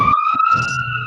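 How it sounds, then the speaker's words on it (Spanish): A loud, close emergency siren from a passing ambulance holds a steady electronic tone through a short burst, with a little background noise and no voices. "Deja que pase la ambulancia."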